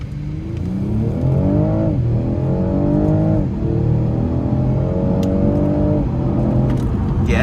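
A 2026 BMW 540i xDrive in sport mode accelerating hard on paddle shifts, the engine loud and close inside the cabin, rising in pitch through several quick upshifts with a brief drop at each change.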